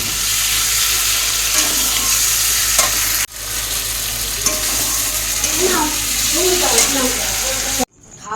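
Egg curry being stirred and fried in a pan, a steady sizzle with scraping stirs, briefly cut off around the middle, with soft voices faintly underneath.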